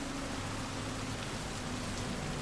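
Continuous rainfall in Cyberpunk 2077, a constant broadband hiss over a faint low drone, with no voices or breaks.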